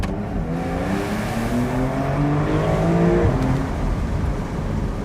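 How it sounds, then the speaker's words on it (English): Porsche 911 Carrera convertible engine and exhaust revving close by, a raspy, steady drone with rising and falling tones over about five seconds, no voices. "There's rasp in this exhaust, and I'm a big fan of rasp."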